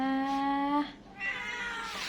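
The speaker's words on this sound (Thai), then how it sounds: "แมวส้มสองหนุ่มนะคะ" Two orange cats meow up close, one long drawn-out cry followed after a brief gap by a second rising meow, loud and clear.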